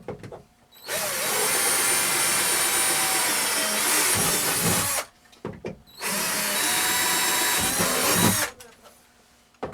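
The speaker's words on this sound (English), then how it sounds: "We're using 3/16 aluminum rivets here" A power tool runs close and loud in two long bursts, setting 3/16-inch aluminum rivets through a fiberglass cabinet door, with a short pause and clicks between them.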